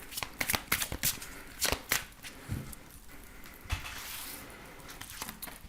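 Tarot cards are shuffled and drawn by hand, making a string of quick, crisp riffling slaps and papery flicks that come in close bursts, with softer sliding between them.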